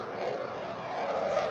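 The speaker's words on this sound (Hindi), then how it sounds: "अभी जो एक के बाद एक लड़ाकू विमान उतरे" Indian Air Force fighter jets, including Rafale, Sukhoi and MiG-29, land on the Ganga Expressway with a steady, broad engine roar that holds at a constant loudness throughout.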